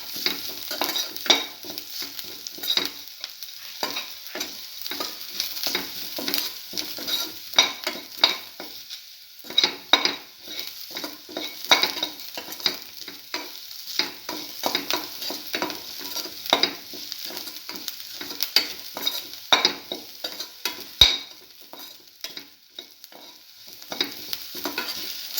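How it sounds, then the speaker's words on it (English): Garlic sautéed with salt and stirred in a pan: a low, continuous sizzle runs throughout under frequent quick scraping strokes of a utensil, fairly quiet and close, with no voices. "Saute garlic."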